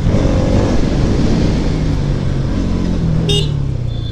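Busy road traffic on a potholed road in India, loud and close: engines hum and rev as vehicles pass, with a brief horn near the end.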